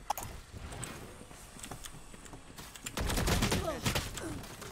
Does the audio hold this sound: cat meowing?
no